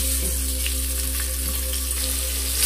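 Thin long-sliced onion, one large one, fries in masala for gongura biryani, making a dense, even sizzle close by under a constant low background hum.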